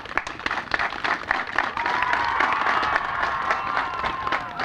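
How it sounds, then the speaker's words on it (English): A crowd at a field groundbreaking ceremony applauds the band, a dense, continuous wash of clapping with some cheering that holds steady for several seconds. "If we can give them a round of applause."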